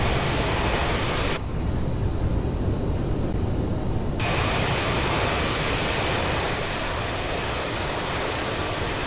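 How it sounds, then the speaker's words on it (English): Reverse thrust on a CRJ jet during landing in Microsoft Flight Simulator, a loud, steady roar of engine noise that holds throughout with a brief change in tone early on. "Reverse thrust deployed."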